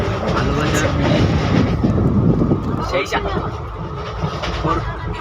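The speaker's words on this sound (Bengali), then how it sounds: "ট্রেন হর্ন দিয়ে দিয়েছে, ঢুকে যাচ্ছে" Passenger train arriving at a railway station at night, a steady loud rumble of wheels and carriages with wind noise over the microphone, and voices talking nearby.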